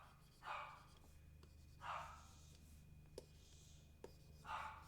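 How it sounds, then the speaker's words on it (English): Dogs bark in short bursts, three spaced yelps at a distance over a low steady hum, with a couple of faint clicks between them. "The dogs are being hella annoying."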